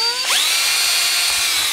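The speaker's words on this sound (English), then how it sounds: "So I'm just holding the drill over the top." Power drill boring holes in a homemade Atari Ultimate Ripper cartridge, a loud close whine that spins up sharply and holds a steady high pitch for under two seconds, with no talking.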